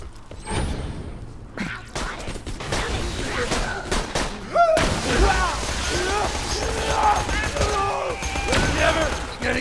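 Grenades in the game Borderlands 2 go off as a chaotic mix of booms, crashes and gunfire, dense and continuous throughout, with speech scattered over the combat.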